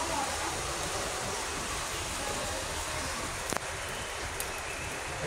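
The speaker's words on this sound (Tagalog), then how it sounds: "Tapos ang lakas ng ulan." Steady, dense hiss of heavy rain pouring without pause, with a brief sharp knock partway through.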